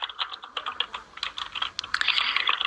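Rapid typing on a Portuguese-layout computer keyboard, quick uneven keystroke clicks close to the mic, steady and alone with no talking.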